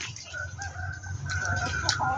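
A rooster crows nearby, its drawn-out call rising over a low background hum, with other fowl clucking faintly.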